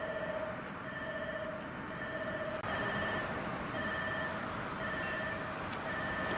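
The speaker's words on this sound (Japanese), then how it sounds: "2番乗り場は10時18分札幌行き快速列車が到着いたします。" A rapid train bound for Sapporo pulls into Minami Chitose Station in Hokkaido, Japan, with a steady rail rumble and faint wheel squeal. Repeating electronic platform chime tones sound throughout.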